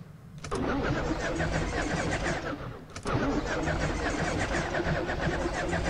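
Company cruiser truck in the video game Lethal Company cranking and starting twice, each start a sharp burst followed by a loud, steady engine roar close up, with no talking.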